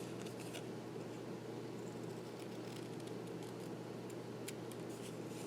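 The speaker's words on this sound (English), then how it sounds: "I'm just going to carefully cut this off" Scissors snip through paper card at a quiet craft table, making a few soft crisp cuts over a steady low hum, with no talking.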